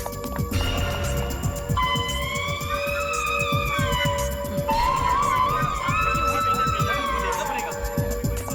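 A fire alarm, set off by pressing its button, wails with loud rising and falling electronic tones that run steadily over a busy background of crowd noise.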